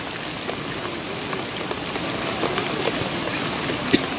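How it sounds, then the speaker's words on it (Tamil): Heavy rain pours down steadily outdoors at a horse-riding event in Pondicherry, a dense continuous hiss of drops hitting surfaces with scattered louder splats, nearby and without talk. "இப்போ செம்மையா மழை பெய்யுது பயங்கரமா."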